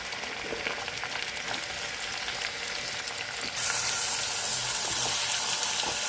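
Onions frying in a pan with curry leaves and green chillies for a potato and green pea curry, a steady close sizzle that grows louder and brighter partway through, with no talk.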